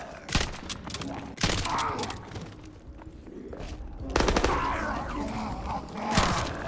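Heavy video game gunfire in a fast two-player match, loud explosive bursts and rattling volleys recurring every second or so amid a dense, noisy battle mix.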